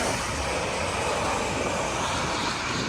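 Continuous loud jet-engine roar as an airplane arrives to land at a seaside airport, a dense unbroken rumble with no voices over it.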